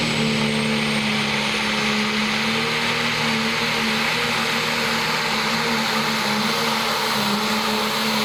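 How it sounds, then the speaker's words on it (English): A big-bore diesel pulling truck at a truck and tractor pull roars continuously with a heavy steady drone and broad hiss, loud and unbroken throughout. "You can tell just by the way it thunders. You can tell it's a big bore engine."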